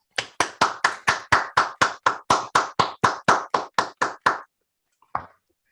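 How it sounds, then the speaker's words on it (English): A burst of hand clapping at an awards session, a few people applauding in a steady rhythm for about four seconds, then one last stray clap after a short pause. "let's all just give a applaud Mihir virtually."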